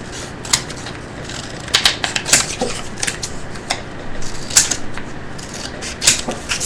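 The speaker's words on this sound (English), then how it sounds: "I'm just taking my scissors and I'm just distressing the edges a little bit." Scissors scraping and snipping along the edges of a paper card to distress them, a quick irregular series of dry crisp scratches, close and alone.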